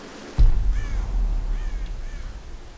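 Crows caw in a Tomb Raider game, three short hoarse calls spaced about a second apart over a low rumbling ambience, after a sudden thud at the start.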